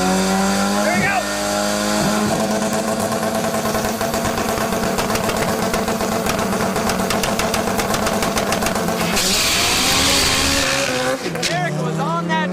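Drag racing cars roar down the strip at a PFI Speed event, engines revving hard with squealing tires and rising acceleration, loud and continuous, with a commentator talking over it.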